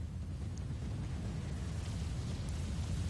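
Rumbling, sustained low blast from a factory being destroyed in the real-time strategy game Supreme Commander: Forged Alliance, a steady deep roar throughout with faint pops on top.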